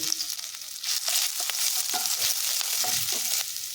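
Ginger garlic paste frying in hot oil for a leftover-roti snack, a steady loud sizzle with crackling bursts that swells at about one second and holds to the end, with no voices.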